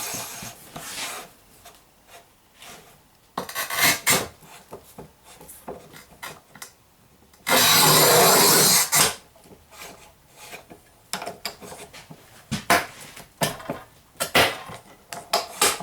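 A RUBI Speed-62 tile cutter scores through 12 mm porcelain stoneware, giving a steady, loud grinding rasp that runs for over a second, set among scattered clicks, taps and handling knocks near the microphone.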